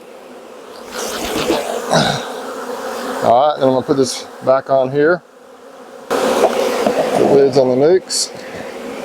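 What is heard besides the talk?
honeybees buzzing while shaken out of hive boxes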